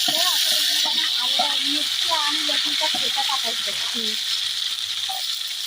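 Hot oil sizzles steadily in a pan while soyabean fried rice is being made, a continuous bright hiss heard beneath someone talking.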